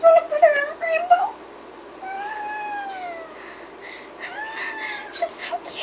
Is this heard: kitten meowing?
yes